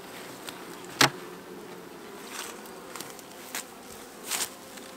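Honeybees hum in an opened beehive during a hive inspection: a low, steady drone fills the background, broken by a few sharp taps and knocks from handling the boxes.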